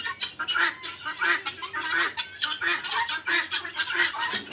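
Many Tithi chickens on a poultry farm cluck busily and continuously close by, a dense, overlapping chorus of short clucks with no talking.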